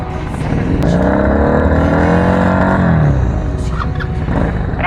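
A Honda PCX160 scooter engine revs up to 6,000 RPM, a loud, close, steady drone that climbs in pitch, holds, then drops away after about three seconds into a lower idle.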